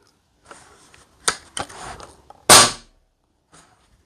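Side-lever cocking of a Nova Vista Pneupump G2 multi-calibre PCP air rifle with synthetic stock: a few sharp mechanical clicks and a short scraping slide, then one loud metallic clack near the middle, with light handling noises afterward, close up.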